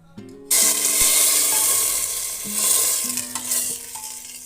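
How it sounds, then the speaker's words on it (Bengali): Hot spiced oil tempering poured into a pot of vegetable khichuri bursts into a loud, sudden sizzle that stays strong and crackling, with metal stirring scrapes, close up and without talk. "খিচুড়ির মধ্যে এটা ছোকা দিয়ে দেব।"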